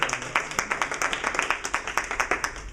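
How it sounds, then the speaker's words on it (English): Audience applause at a gathering, a short burst of steady, rhythmic clapping from a modest crowd, fairly close and even throughout. "And so let's give him a round of applause,"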